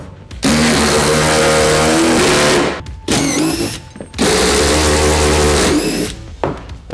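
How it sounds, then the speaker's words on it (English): An impact driver with a T50 star bit hammers out D-ring bolts in the floor of a Ford Transit Connect LWB, loud and close, in two long rattling bursts with a short pause and a brief whir between them. "I've got an impact here with a T50 bit on here"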